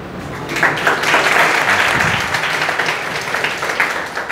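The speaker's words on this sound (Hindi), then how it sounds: "तालियां बजती रहिए।" An audience at a felicitation for a NEET 2022 selected student claps in sustained, dense applause, fairly loud and close, with no voices over it.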